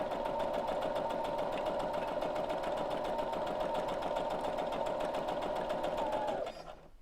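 A sewing machine stitches steadily along a fabric edge while making a scrunchie, a continuous rapid mechanical whir that runs unbroken for several seconds before winding down and stopping.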